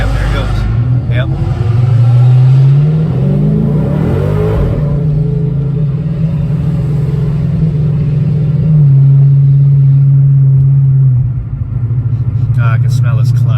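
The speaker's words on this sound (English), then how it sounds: "I think the Mustang stalled. Manual things. Yep, there it goes." A manual Ford Mustang's engine starts again after a stall, then holds a loud, steady drone as it drives off close by, with talk over parts of it.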